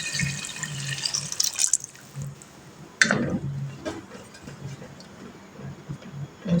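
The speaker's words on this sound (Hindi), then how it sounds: "तो अब हम इसमें डाल देते हैं 2 गिलास पानी रखने के लिए।" Water from a glass poured into a pot of partly cooked chicken for pulao, a splashing pour that starts at three seconds amid ongoing kitchen clatter and running-tap sounds.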